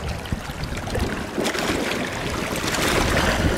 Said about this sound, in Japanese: この水と石がぶつかり合う音